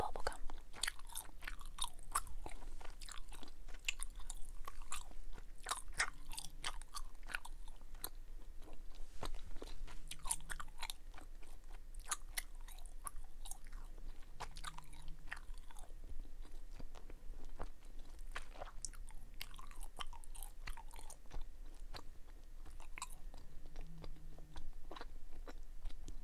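Snapping gum and bubble gum chewed up close, quiet wet smacks and soft pops repeating in an irregular rhythm, low in level and without talking.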